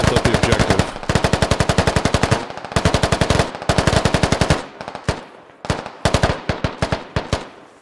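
Rapid automatic gunfire from a firefight between militia and Russian forces in the Squad video game, loud bursts of full-auto fire at close range, then slower single and double shots near the end.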